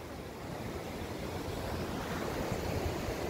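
Rough ocean surf rolls in as a cold front approaches the beach in Rio, a steady broadband wash of breaking waves with wind noise, continuous and fairly loud throughout, no voices.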